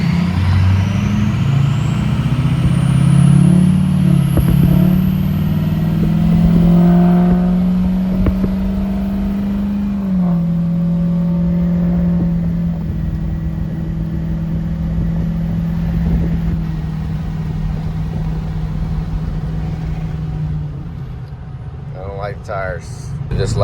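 A car cruising at highway speed gives off steady tire roar and engine drone, a low hum that shifts slightly in pitch as speed changes, with a faint vibrating hum underneath and no talking.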